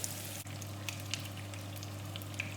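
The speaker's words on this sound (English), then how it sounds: "I put in the broccoli and the carrots." Broccoli and carrots fry in the same pan used for the potatoes, a faint steady sizzle with a few small crackles and pops and a low hum beneath, no one talking.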